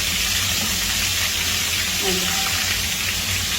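Pieces of fish roe fry in a pan with a steady, even hiss of sizzling oil that holds unbroken from start to finish, close and moderately loud.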